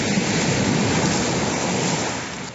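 Sea surf breaking along an Albanian shoreline, a loud steady wash of surging water with wind buffeting, heard alone without talk.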